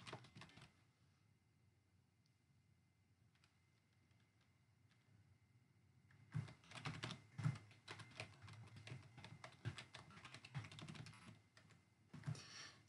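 Quiet typing on a computer keyboard, sparse at first and then a busy run of rapid, irregular key clicks close to the microphone, with no talking.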